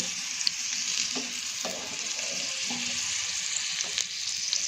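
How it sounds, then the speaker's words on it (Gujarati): Garlic frying in oil for an idli chutney, a soft continuous sizzle in a pan with occasional light clinks and scrapes of a stirring spoon. "તો આપણું લસણ ફ્રાય થઈ ગયું છે।"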